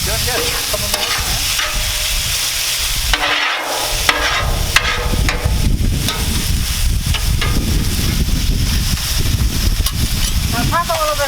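Fish sizzles and fries steadily on a Blackstone griddle at a campsite, a continuous close crackle with brief stirring scrapes throughout.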